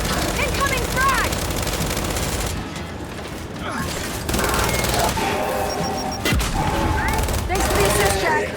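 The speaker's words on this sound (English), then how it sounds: "Incoming frag!" A frag grenade blast and heavy automatic gunfire fill a Gears 5 firefight, loud dense volleys rattling almost continuously with a short lull in the middle, while a character shouts briefly over the chaos.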